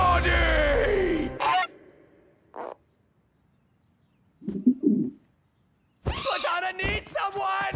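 Cartoon birds honk and coo in a few short separate bursts with silent gaps between them, loud and close, alongside brief animated voices talking.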